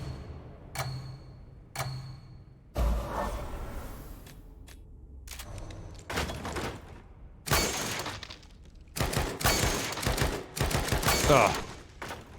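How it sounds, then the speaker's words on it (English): Rifle shots in the horror video game The Evil Within 2, a few sharp isolated cracks early on followed by louder bursts of firing and clattering impacts later, with a person talking at times. "I don't know if I'm allowed to shoot the rifle in this."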